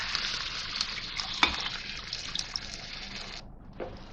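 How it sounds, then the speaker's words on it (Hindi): Water poured into mashed chana dal in a hot pan gives a steady hissing sizzle, loud and close, with a few sharp clinks before it cuts out briefly near the end and resumes. "पानी डाल दूंगी इसमें।"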